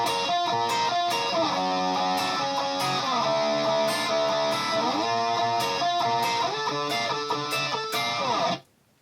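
Electric guitar slowly playing the riff from a song, with distorted sustained notes and quick picked runs for about nine seconds before stopping abruptly, heard alone.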